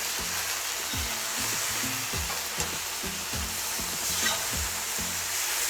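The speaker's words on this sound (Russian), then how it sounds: "я просто его сразу беру и обжариваю" Meat searing in a kazan over a roaring wood fire for Georgian ojakhuri, a loud continuous sizzle and crackle with rhythmic low scraping thumps, no talk.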